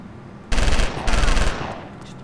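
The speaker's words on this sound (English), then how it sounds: "Good shooting, Williams." Two loud bursts of rapid automatic gunfire from the top-down shooter game LA Cops, each lasting about half a second with a short gap between them, followed by a fading tail.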